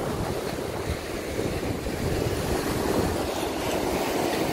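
Sea surf and gusting wind on the beach at Zelenogradsk, Kaliningrad region, in cold weather around 8 degrees: a steady, loud roar of breaking waves mixed with wind buffeting the microphone, continuous throughout with no talk.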